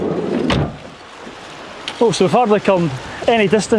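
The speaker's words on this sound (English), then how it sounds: "You can probably hear the water behind me, but it's torrential rain yesterday" A stream running high after torrential rain the day before rushes steadily in the background on a hillside walk, with a brief splash-like burst near the start, then people talk over the water.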